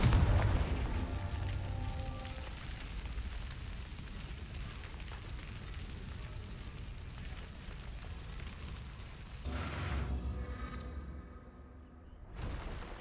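A Confringo fire spell in Hogwarts Legacy bursts with a deep rumbling boom that tails off into a crackling roar, followed by a second swelling blast near the end.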